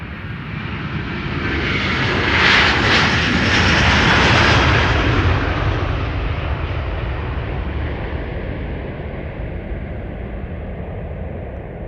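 Delta airliner taking off from Amsterdam Schiphol on a sunny morning, a loud, steady jet engine roar that swells as it passes close by around the middle and then slowly fades into a lingering rumble.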